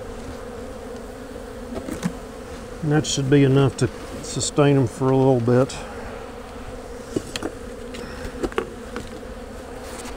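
Steady, close drone of honey bees around a beehive runs throughout, with someone talking over it in the middle.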